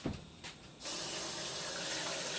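A kitchen faucet turns on and runs a steady, close stream of water over red peppers to rinse out their seeds. A few soft clunks come first, then the flow continues unbroken to the end.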